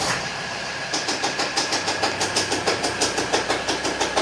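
A Volvo XC60 D3 diesel engine runs with a suspected bad belt tensioner, giving off a steady, rapid metallic clicking that repeats evenly over the engine noise, close up and fairly loud with no talking.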